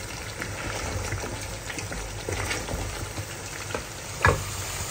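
Spices being fried down and stirred in a pan as a base for cooking Malabar spinach, a steady sizzle with soft stirring scrapes and one sharper clatter near the end, with no talking.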